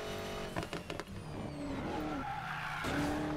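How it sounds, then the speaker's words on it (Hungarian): A car engine hums in the racing video game Need for Speed Payback, a steady droning tone that shifts in pitch, with skidding tire noise and a few bumps, fairly quiet overall. "Szépen zümbög már az autó."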